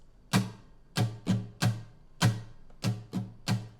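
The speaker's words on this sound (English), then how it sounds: "your strumming pattern is going to sound like this" An acoustic guitar is strummed in a lilting three-beat waltz pattern, down, down, up, down, crisp strokes falling in short clustered groups with brief pauses between.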